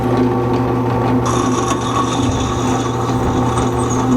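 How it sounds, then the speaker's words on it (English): A drill bores a 1/4 inch hole through the steel front cross member of a 1949 Chevrolet gasser, giving a steady, loud grinding whine that holds without a break from start to finish. "Now we'll drill with a 1/4 inch."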